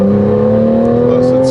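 A 2015 Porsche GTS engine hums and climbs gently in pitch while driving, a close, steady drone under a voice.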